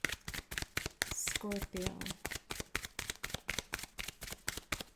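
Tarot cards are shuffled close by in a quick, steady riffle of dry papery flicks that runs the whole time, with a voice talking briefly over it.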